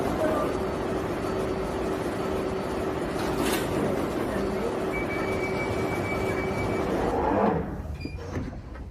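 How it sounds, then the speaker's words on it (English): Interior of a London Underground train at a platform, a loud steady rumble and hum throughout, ending with doors sliding shut and the noise dropping off, with an announcement voice heard over it. "Mind the gap between the train and the platform."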